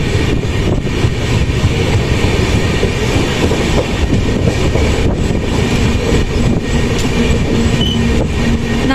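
Onboard the Prashanti Express in Odisha, a steady loud rumble of the train running on rails fills the whole stretch, with continuous rolling noise and faint rhythmic wheel clatter, no voices.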